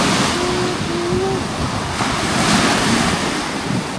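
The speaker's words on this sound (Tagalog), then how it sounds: "Lakas ng alon." Strong sea waves rolling onto a beach, a loud, steady roar of surf mixed with wind rumble on the microphone, with a faint voice or tone briefly audible underneath.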